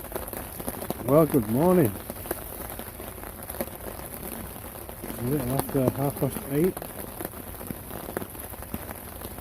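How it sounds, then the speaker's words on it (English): Heavy rain falls steadily on surfaces outdoors in the morning, a constant hiss throughout while someone talks quietly in two brief stretches. "as you can hear, the rain is here with a vengeance"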